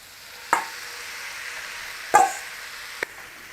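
Beef mince with tomatoes and onion frying in a pan under a soft, steady sizzle, broken by three or four sharp scraping knocks as it is stirred and broken up.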